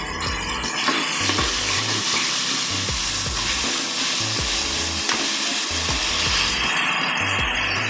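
Tomatoes sauté in a pot for sambar rice, sizzling steadily while a spoon scrapes and stirs in repeated rhythmic strokes, close and loud.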